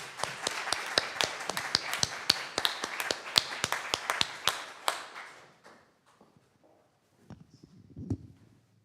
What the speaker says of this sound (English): I suppose that applause is in order again